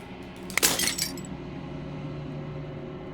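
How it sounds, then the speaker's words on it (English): Glass shatters in the game Slay the Princess: one sharp crash with tinkling fragments lasting about half a second, then a quiet, steady ambient hum. "As the final fragment of glass shatters, you see yourself with newfound clarity."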